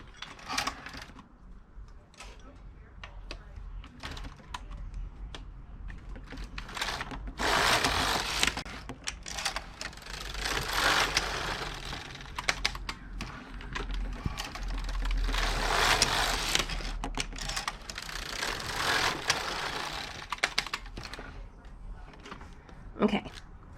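A Passap E6000 knitting machine carriage knits rows of a heel-flap sock gusset, giving repeated clattering mechanical sweeps back and forth with brief pauses between passes, close and fairly loud, with a little talk in the room.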